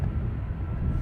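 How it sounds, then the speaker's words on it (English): A Boeing 757 taxis at Dublin Airport, its engines a steady low rumble heard from a distance, mixed with wind buffeting the microphone. "we'll stick with this 757 as it taxis towards us"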